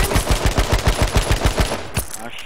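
Rapid automatic gunfire from a shooter video game, a loud rhythmic burst of about fifteen shots over two seconds, then a sharp final blast and a brief fade.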